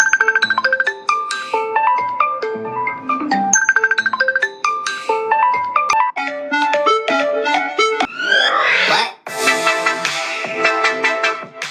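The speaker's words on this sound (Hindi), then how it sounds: "अब मैं खामोश होकर आपको रिंगटोन्स की आवाज जो है वो सुनाता हूं" Premium WhatsApp Plus ringtones play one after another: bright electronic melodic tones, chimes and jingly patterns, loud and close with no talking.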